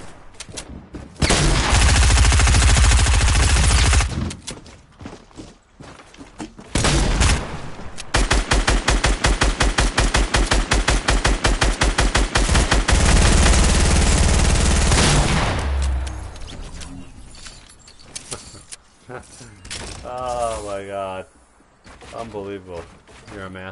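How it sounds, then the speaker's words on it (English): Bursts of rapid automatic fire from the new compact SMG in Fortnite, loud chattering volleys separated by short pauses, with game sounds and some talking between bursts. "Yeah, the new SMG."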